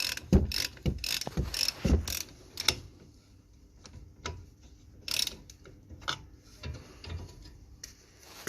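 Rapid ratcheting clicks from a ratchet combination spanner tightening a brake caliper bolt on a 2017 Nissan X-Trail, bursts of close, crisp ticking that thin out into sparse clicks.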